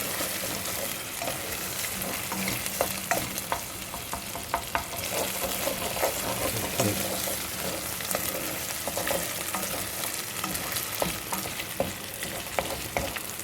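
Meat fries in a pan with a steady close sizzle, broken by scraping and stirring noises throughout. No one talks.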